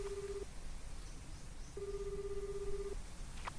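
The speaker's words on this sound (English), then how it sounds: "My phone is ringing." A phone ringing in the video game ASTLIBRA, a pure electronic tone sounding in two long pulses separated by a pause, faint and clean over a soft background hiss.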